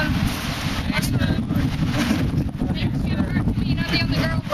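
Steady wind buffets the microphone outdoors on a gusty day at a high school tennis event, a continuous broadband roar with rumbling low end, with a faint voice underneath.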